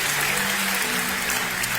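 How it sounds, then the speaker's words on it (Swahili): An audience claps together through the whole short stretch at a lively comedy gathering, a dense, steady burst of applause with no break. "Lakini mwapigie makofi wanafanya kazi mzuri."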